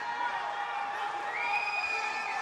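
Crowd noise at a 2022 wheelchair basketball world championship quarter-final between Australia and the USA, a steady roar of cheering and shouts filling an arena after a block, loud and sustained with high whoops on top.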